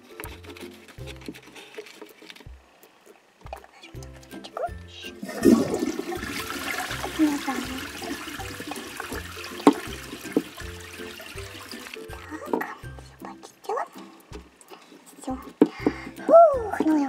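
A toilet flushes in a doll cartoon: a bathroom scene with a rushing, gurgling flush that swells midway, set among soft patter, small clicks and quiet background music.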